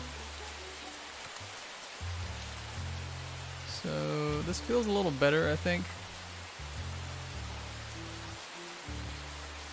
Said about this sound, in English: the rain that you're hearing in the stream right now is like maximum rain level, which is the loudest it can get